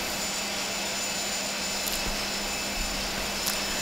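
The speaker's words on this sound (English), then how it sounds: "As you can hear in the background, the APU is actually running" Steady broadband whine and rush of the auxiliary power unit on a Boeing 737NG in a flight simulator, a constant loud drone with a faint tonal hum and no talking.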